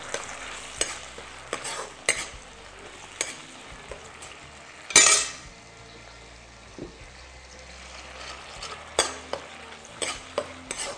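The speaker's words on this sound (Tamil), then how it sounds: "இப்போ நல்லா கொதிக்கட்டும்" Tamarind mixture in oil bubbling and sizzling in a pan on the stove, with a spoon scraping and clinking against the metal at intervals and one louder clatter midway, close and steady throughout.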